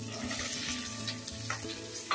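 Onion cubes and capsicum frying in a pan for chilli paneer, a steady close sizzle with scraping stir strokes running throughout, no talk.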